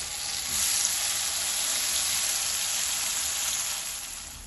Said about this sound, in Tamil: மற்றதையும் இதே மாதிரி பொறிச்செடுப்போம்